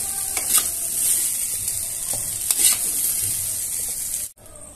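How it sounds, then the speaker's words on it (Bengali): Cauliflower and potato pieces frying in oil in a pan, giving a steady bright sizzle with a few stirring scrapes, close and fairly loud, ending abruptly near the end. "দেখুন সুন্দরভাবে আলু আর কপি আমার লাল লাল করে ভাজা হয়ে গেছে"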